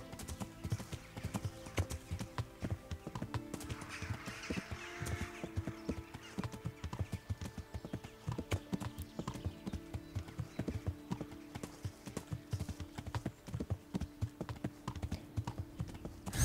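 Steady clip-clop of a horse's hooves at a walking pace in the video game Kingdom Come: Deliverance, close and continuous, with faint background ambience and no talking.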